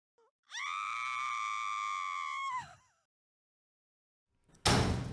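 A single loud, high-pitched scream held for about two seconds, then breaking off, followed by silence and a sudden burst of noise.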